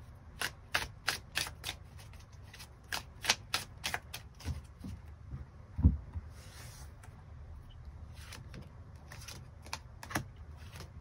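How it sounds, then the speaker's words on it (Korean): Tarot cards are shuffled in a quick run of soft, crisp ticks and flutters, faint and close, that thin out and become sparse toward the end, with no one speaking. "그 부분 추가 카드 뽑아보도록 하겠습니다"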